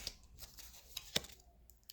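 Papery riffling of tarot cards being shuffled, several quick soft bursts close by with short pauses between them, fairly quiet and with no talking.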